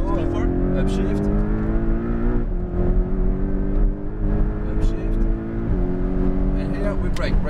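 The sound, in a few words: Porsche Cayman GTS accelerating and upshifting on race track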